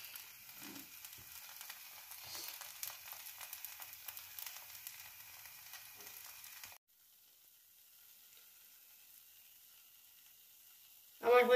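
A moong dal chilla, flipped after one side has browned, fries in a pan with a steady soft sizzle for several seconds before it drops to a much fainter hiss.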